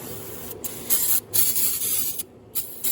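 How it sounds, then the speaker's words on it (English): Short bursts of aerosol brake cleaner spray hiss close by around a Duramax engine during a thermostat change, several quick sprays separated by brief pauses. "we just spray some brake cleaner down there"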